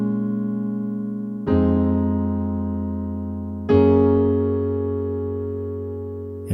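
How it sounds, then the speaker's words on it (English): A piano plays accompaniment chords for a song: three sustained chords, each struck firmly and left to ring and fade, close and clear with no voices. "So a chord progression sounds like this."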